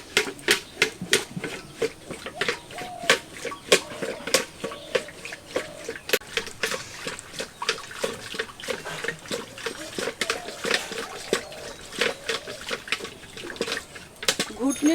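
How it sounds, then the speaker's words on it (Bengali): A wooden churner whisks yogurt in a bucket to make ghol, giving a steady run of quick wet slaps and splashy clicks, close and moderately loud throughout, with no talking. "এখন ঘুটনি দিয়ে এটাকে খুব ভালোভাবে"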